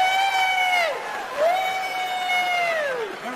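A comedy club audience cheers and whoops loudly, with long rising and falling shouted calls carrying over a steady crowd roar for a few seconds.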